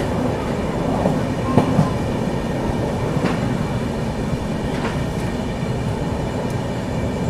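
The Ahmedabad Pune Duranto Express rushes through Vadodara junction at night at about 100 km/h, a loud, continuous roar of wheels and carriages with rhythmic clickety-clack close by.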